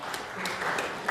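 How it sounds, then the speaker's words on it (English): A round of applause from a snooker crowd after a ball is respotted on the table: steady, dense clapping that holds for about a second and swells briefly at the end. "not often you get a round of applause for respotting a ball"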